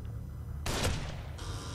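Gunfire in the horror game The Evil Within, a short broadband burst of shots cutting in over a steady electrical hum, fairly faint and without talk.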